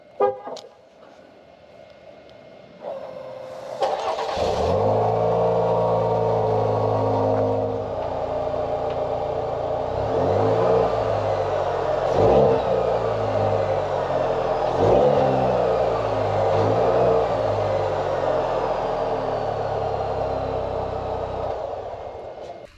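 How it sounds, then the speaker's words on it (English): A GMC Canyon AT4 pickup's exhaust rumbles as the engine starts and idles, then revs repeatedly, rising and falling in loud throaty swells close by. "So this is the exhaust on the AT4."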